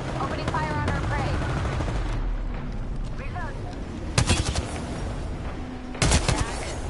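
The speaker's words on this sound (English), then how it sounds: "Opening fire on our prey." Gunfire in the battle-royale game Apex Legends, bursts of automatic shots with two sharp louder volleys, mixed with game sounds and ongoing talk.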